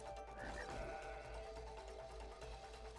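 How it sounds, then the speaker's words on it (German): A sheep bleats in the video game It Takes Two, a clear wavering cry over steady game background sound. "Ein Schaf."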